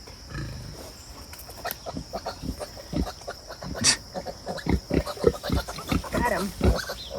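Pigs and a boar grunt and snort in short, uneven bursts as they are herded on a farm, close by, with people talking throughout.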